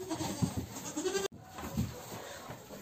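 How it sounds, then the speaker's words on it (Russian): A goat bleats twice, close and fairly loud, with a short cut between the calls and a background of farmyard noise. "Вот копия у нас коза Яна есть."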